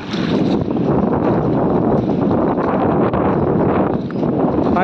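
A boat moves through creek water toward the sea mouth, a loud steady rushing of water and wind buffeting the microphone, continuous and close.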